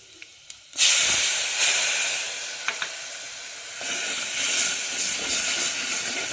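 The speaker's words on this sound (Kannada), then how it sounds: "ಈಗ ನಾ ಇದಕ್ಕೆ ಹುಣಸೆ ರಸವನ್ನು ಹಾಕ್ಕೊತೇನೆ ರೀ" Tamarind juice poured into a hot pan of okra curry bursts into a loud, sustained hiss and sizzle after a few small clicks, then keeps bubbling steadily.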